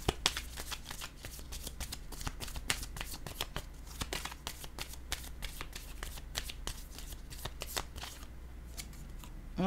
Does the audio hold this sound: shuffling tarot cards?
yes